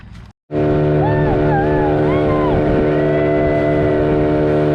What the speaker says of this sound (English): Crazy overloaded dinghy ride.